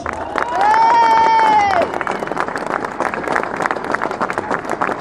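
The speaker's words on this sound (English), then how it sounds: "Give Becky a round of applause." A crowd at a DFLA and veterans rally in Birmingham claps and cheers for Becky Watson, dense sustained clapping with a loud shout rising over it early on, then continuing steadily.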